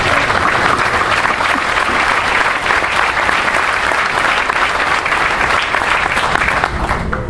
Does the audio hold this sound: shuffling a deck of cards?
no